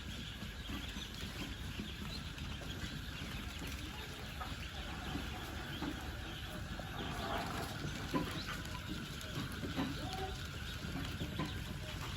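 A flock of same-sized ducks at a duck farm hatchery keeps up a continuous low quacking and clucking chatter, steady and fairly faint, with no other sounds standing out.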